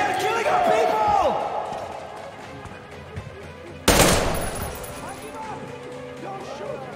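Gunfire in the video game Metro Exodus: one loud, sharp burst cracks out midway over a busy background of game noise, with voices talking throughout.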